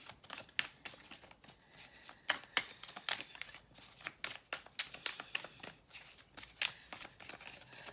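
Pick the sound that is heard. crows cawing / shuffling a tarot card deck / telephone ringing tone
shuffling a tarot card deck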